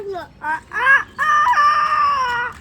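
A rooster crows nearby in a loud, drawn-out call, preceded by a few short clucking notes, with no talking.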